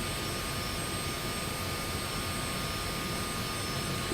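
A piston engine on an A2A Comanche in a flight simulator runs as a steady, loud, even drone with a faint high whine on top, unchanging throughout and with no voices.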